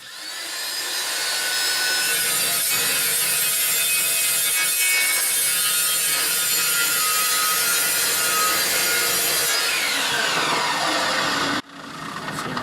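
A saw blade cuts through seamless DOM steel tubing in one long, loud, continuous rasping grind, close by, that stops abruptly near the end.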